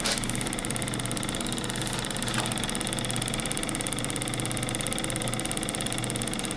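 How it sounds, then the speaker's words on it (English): A homemade engine simulator, a larger motor driven by an Arduino Uno H-bridge and spinning an aluminum two-pole rotor with magnets epoxied to both ends, gives a steady, buzzy, rapid whirring hum that holds at a constant, faint level. "Here on the right is my engine simulator."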